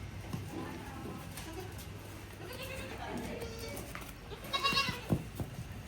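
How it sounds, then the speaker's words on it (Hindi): Goats on a farm, with occasional soft bleats rising from a busy rural background of shuffling and murmured voices, then a louder, brighter bleat near the end, all at moderate distance. "बकरे बाहर आ जाएंगे।"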